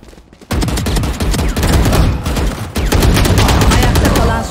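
Dense, loud gunfire and combat noise from a Valorant match, a sustained clatter of shots and impacts after a brief quiet start, continuing unbroken to the end.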